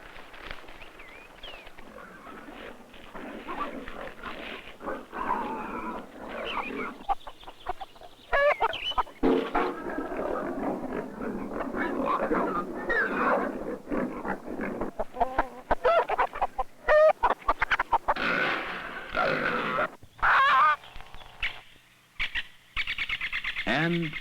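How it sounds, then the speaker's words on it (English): Hens cluck repeatedly around a medieval village common waste, busy and fairly close, mixed with footsteps and someone speaking over them. "he says get Widow Alice's hens out of the waste"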